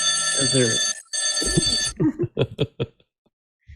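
Old telephone bell ringing in steady bursts, loud and close, with a short gap, followed by broken, static-laden speech-like bursts from a broadcast setup.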